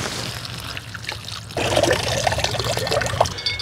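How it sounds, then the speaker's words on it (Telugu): Water pours and trickles steadily as vegetables are rinsed, with a louder splashing stretch in the second half. No one speaks. "1/2 కేజీ లేత వంకాయల్ని నీళ్ళతో ఒక్కసారి కడిగేసుకుందాం"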